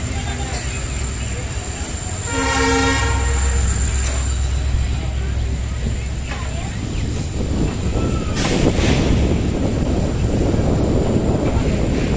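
A passenger train on the Siliguri to Hasimara line rumbles along steadily, with a droning tonal blast suggesting a horn early on and a rising rush of track noise later, plus brief talking.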